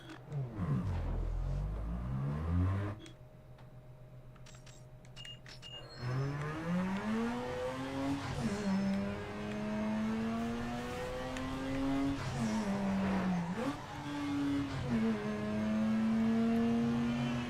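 Race cars in Need for Speed Underground 2 gameplay: a loud engine roars through rising gears with repeated revving climbs and shift drops, a short quieter gap early on, then steady high-speed acceleration throughout.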